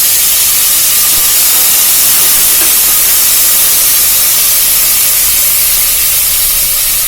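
Chopped tomatoes hit a hot frying pan of sautéed onions while cooking a quick kids' lunch, giving a loud, dense, continuous sizzle and hiss close by, with no break throughout.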